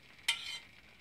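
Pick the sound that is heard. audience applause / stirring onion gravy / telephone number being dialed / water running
stirring onion gravy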